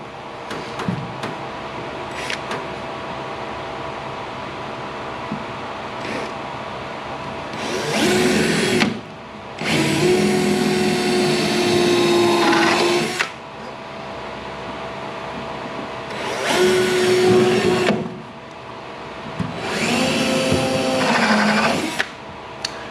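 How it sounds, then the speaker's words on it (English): A power drill with a 1/8 inch bit drills pilot holes in reclaimed wood in four sustained bursts of a few seconds each, loud and close, with quiet pauses between runs. "When you drill the pilot hole, it lessens the likelihood of splitting the wood"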